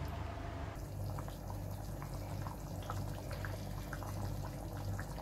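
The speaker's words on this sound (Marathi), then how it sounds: "आणि आता छान 10 मिनिटासाठी आपण बारीक गॅसवर उकळून देऊ" Misal, a spicy Maharashtrian curry, simmers on a low gas flame, giving a steady close bubbling and gentle boiling hiss with small pops throughout, no talking.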